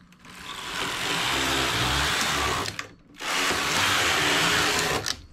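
A home knitting machine with ribber carriage sweeps across in two long, loud whirring rows, each a steady rushing rasp ending in a brief clack as it stops, with a short pause between passes.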